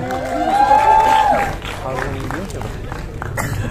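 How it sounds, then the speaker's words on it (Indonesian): Applause from a crowd at a film event for short film creator Riza Palevi, a steady rattle of clapping under a loud announcer's voice, with an amplified tone sweeping over the start. "Boleh tepuk tangannya untuk Riza Palevi."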